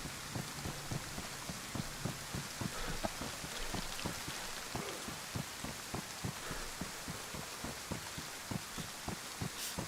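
Steady rain in the video game DayZ patters throughout, a soft hiss with regular faint thumping underneath, no voices.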